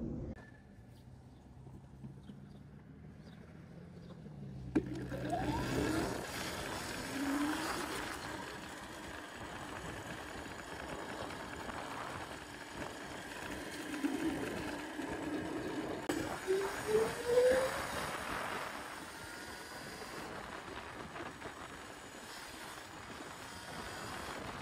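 A 15 kW mid-drive electric bike on a test ride gives a low motor whine that rises and falls with acceleration, along with wind and road rumble, starting after a few quiet seconds.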